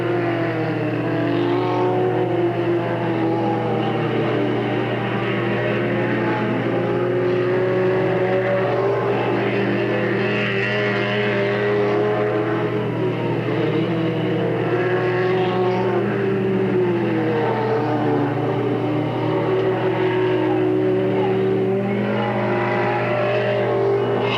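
Stock cars roar around Delta Speedway on the final lap, a dense, continuous layering of engines at mid distance with pitches sweeping up and down as they pass, no talk audible.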